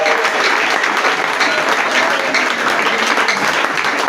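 A church congregation at a Sunday celebration service claps steadily in dense, continuous applause that fills the room and stays at an even level throughout.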